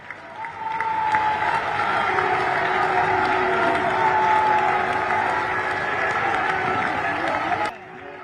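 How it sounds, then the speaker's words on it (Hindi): A large crowd applauds continuously for several seconds during a standing ovation, a dense wash of clapping with some cheering, stopping fairly abruptly at the end. "1 मिनट तक तालियां बजाकर उनका अभिनंदन करें।"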